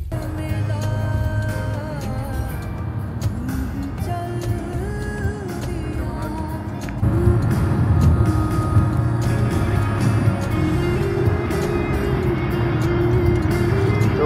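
Steady engine drone and road noise from a car cruising along a highway toward Pennsylvania, loud and continuous, stepping up in intensity midway as if changing lanes or speed.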